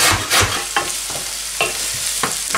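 Grated carrots fry in a pan with a steady, close sizzle, broken by repeated scraping strokes as they are stirred.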